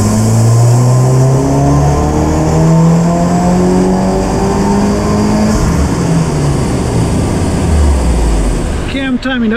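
Subaru FA24 VB WRX with a Blouch 5056 turbo on a dyno pull at 16 psi boost, its engine revving loud and close with a steadily climbing pitch, then cutting off sharply at the end.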